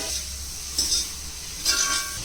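Masala ingredients for a fish curry dry-roasting in a pan, giving a dry crackling sizzle with two brief bursts of louder scraping and stirring, close and alone with no talk.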